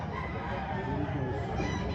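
A gamefowl rooster at a game farm in Padre Garcia crows steadily for two seconds over a busy, noisy background.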